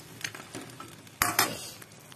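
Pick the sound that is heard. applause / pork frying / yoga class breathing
pork frying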